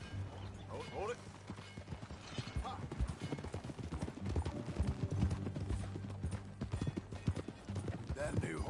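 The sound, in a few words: horse hooves trotting in Red Dead Redemption 2 video game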